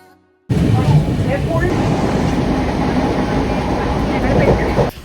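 A loud rail rumble rolls in abruptly as a train arrives at a station, continuing steadily with clanking wheels and a faint high whine, under some indistinct voices.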